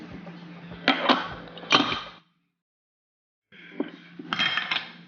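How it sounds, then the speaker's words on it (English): A spoon clinks and scrapes around a bowl while steak seasoning is stirred together for a picanha cook, coming in two quick rattling bursts, a short silence, then a further stretch of clattering. "Mix it up. Mix it all up."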